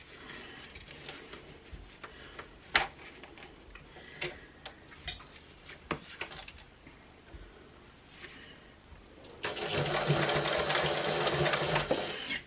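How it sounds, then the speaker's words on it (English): Sewing machine stitching down the outer edges of a small clutch wallet, a 1/4-inch seam: scattered ticks and clicks at first, then a steady, loud run of fast mechanical stitching near the end, with no talking. "So I'm just going to sew down these outer edges"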